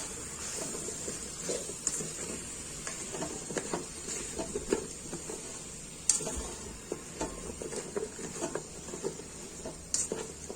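Vegetables go into frying masala in a pan for a dried-fish curry, hissing with a soft constant sizzle while a spoon scrapes and stirs in irregular taps and scuffs, fairly quiet and close.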